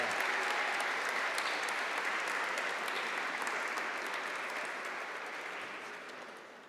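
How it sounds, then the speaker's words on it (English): Sustained applause from a large graduation audience, steady and dense for several seconds before gradually tapering off near the end, with no talk over it. "let's give them a round of applause to thank them for their contribution to your journey"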